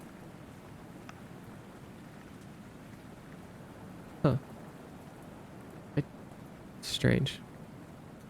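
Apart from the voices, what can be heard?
rain sound ambience playing on stream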